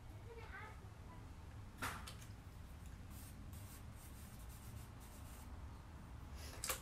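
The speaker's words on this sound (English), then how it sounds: "just write it on the paper, okay?" A pen or pencil writes on paper during a quiet art therapy session, making faint, intermittent scratching strokes with a few sharper rubs over a low room hush.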